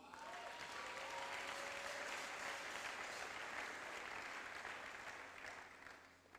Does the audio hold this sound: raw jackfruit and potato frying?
no